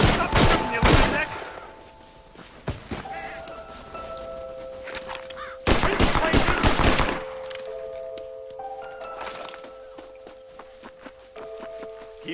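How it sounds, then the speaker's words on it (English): Gunfire in the Western video game Red Dead Redemption, with rapid bursts of shots and heavy thuds between quieter spells, alongside footsteps and tonal game music. "Stop shooting, you lunatic!"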